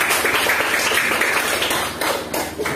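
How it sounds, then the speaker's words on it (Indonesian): Students clapping together in a classroom lesson, a short burst of brisk, close handclaps with a rattling texture, loud and continuous for a few seconds. "boleh kita kasih tepuk tangan ya"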